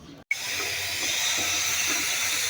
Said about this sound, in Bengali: তেল ফোড়ানি দিয়ে দিছি।